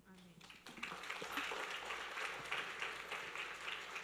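Sustained applause from a church congregation at a Good Friday seven-words service, a dense wash of clapping that swells after a brief spoken moment at the start.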